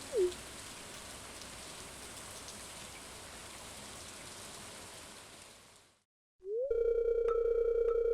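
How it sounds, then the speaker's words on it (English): Steady, hissing rainfall in the Stardew Valley video game runs for about six seconds, drops out, then gives way to a loud, constant electronic tone. "I'm surprised to find you out here in the rain."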